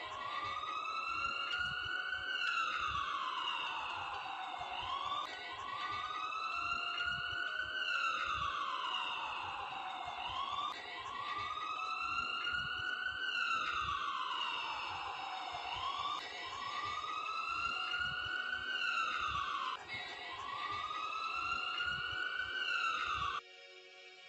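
A cartoon ambulance siren wails in repeated falling sweeps, each cycle a few seconds long, looping steadily at a moderate level with faint background noise beneath.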